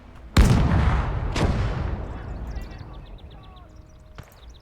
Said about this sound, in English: I just love the LEIG. It's just the best gun at this stage.